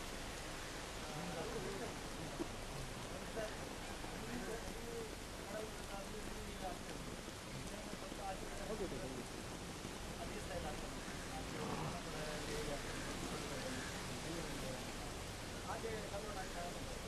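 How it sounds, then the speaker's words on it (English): Heavy monsoon rain lashes down on Mumbai, a dense, even wash of rainfall holding steady throughout with no distinct breaks. "the monsoon is wreaking havoc in Mumbai as heavy rains continue to lash the city"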